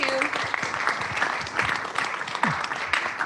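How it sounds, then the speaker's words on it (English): Applause from an audience for a new-venture presenter, a steady stretch of clapping at moderate level with a voice speaking faintly underneath. "how about a nice round of applause?"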